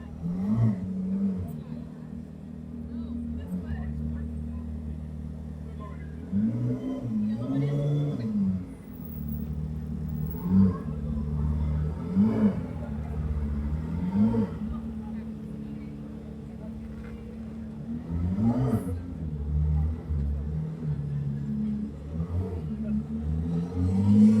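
Pagani Zonda Arrivederci supercar engine, a loud, close, throaty drone that swells into repeated revving pitch sweeps over about twenty seconds, with some voices in the background.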